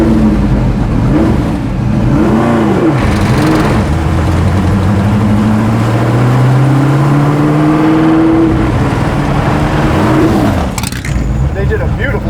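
A Ford GT40 with a 289 V8 revs repeatedly, its loud engine note sweeping up and down through several blips before settling, close and dominant throughout.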